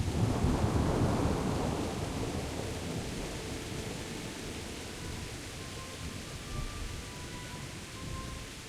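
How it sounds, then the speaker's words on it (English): Steady rain hisses over a low rolling rumble of thunder in the video game Kingdom Come: Deliverance, louder at first and easing slightly, with faint tonal sounds drifting in near the end. "Why is it still raining?"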